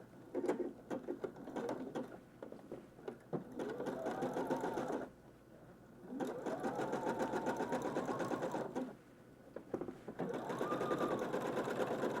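Pants being repaired on a sewing machine, stitching in three steady whirring bursts separated by brief pauses, close and clear with no talking.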